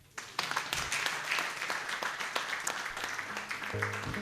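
A seminar audience applauding, dense sustained clapping from many hands that starts abruptly and carries on steadily, with some faint voices underneath.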